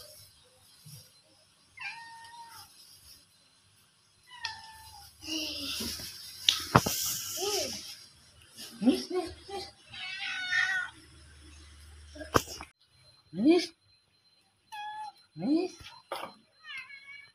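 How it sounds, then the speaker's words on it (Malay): A cute female cat meows repeatedly in short, close, high-pitched calls, interspersed with a child and other people talking around it. "ambil kucingnya, kucingnya"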